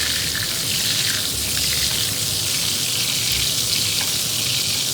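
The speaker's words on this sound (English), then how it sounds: "Look at that sizzle." Pork chops sizzle steadily in a hot frying pan, a loud, continuous crackling hiss close by with no pauses.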